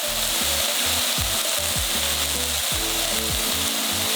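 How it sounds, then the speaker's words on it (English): Ground meat frying in a pan with spices such as cumin, a loud continuous sizzle with occasional scraping stirs, no voices. "We're going to continue cooking until the meat is fully cooked."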